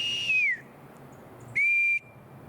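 Two shrill blasts from a whistle, a short falling tone and then a steady one, clear and loud against quiet outdoor background noise.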